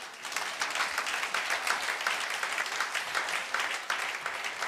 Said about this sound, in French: Est-ce qu'on peut applaudir notre Seigneur?